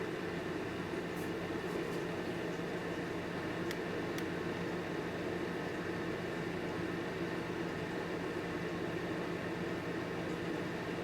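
A Lasko 754200 ceramic heater runs on its highest setting with a steady, even fan hiss and hum that holds unchanged throughout, with a few faint ticks.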